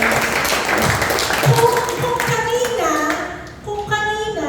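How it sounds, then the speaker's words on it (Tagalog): A church congregation applauds together, a steady wash of clapping hands that holds for several seconds before thinning out, with a voice speaking over it. "Palakpakan po ninyo ang Panginoon sa mga ninyo."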